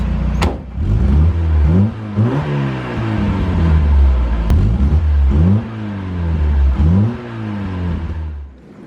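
A small Volkswagen Golf Mk1 engine revs repeatedly, climbing and dropping in quick bursts, loud and close, with a couple of sharp clicks.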